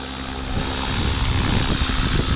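An Align T-Rex 550X RC helicopter flies at 70% throttle in sport mode, giving a loud, steady whirring rotor and motor drone that rises slightly and holds with no voices.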